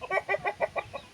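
Native country chickens give a quick run of six even, rhythmic clucks, close and fairly quiet, with no voices.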